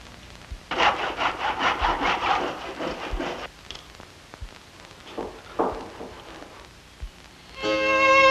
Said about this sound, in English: So we can set it up in a miter box now and start cutting these key fronts.